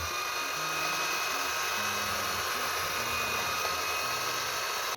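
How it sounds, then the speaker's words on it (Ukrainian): An electric hand mixer beats butter at low speed, a steady close whirring motor hum with slight pitch wobble and no voices. "Збиваємо до зернинок на невеликих оборотах міксер."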